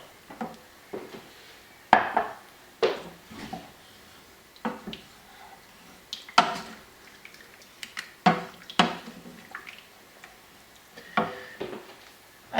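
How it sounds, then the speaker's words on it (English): A spoon scrapes and knocks against the bottom of a pan of stock for spiced noodle soup, loosening stuck spices, in a steady series of short clattering strokes, close and fairly loud with no talking. "just use your spoon to scrape the bottom of the pan to get that off"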